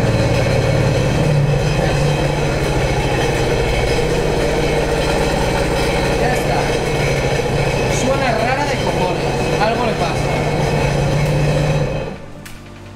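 A jet ski engine, run out of the water on a hose, runs steadily and loudly with a rough, throbbing drone, then cuts off abruptly near the end.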